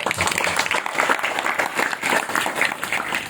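Brief, lively audience applause after a parody performance at a birthday celebration, a dense close burst of clapping with a slightly uneven rhythm.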